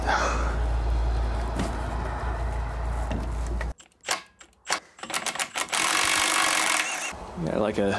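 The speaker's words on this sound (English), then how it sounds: "Give it a little wire wheel." A wire wheel scrubs corroded bolts on a Seagull outboard motor left out in the rain, giving a loud whirring grind that cuts out into scattered bursts and scraping, with talk heard over it.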